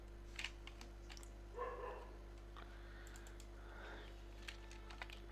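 Keys tapped on a computer keyboard while entering a purchase entry in Tally Prime accounting software, a few scattered clicks over a steady electrical hum, with a brief burst of voice-like noise midway.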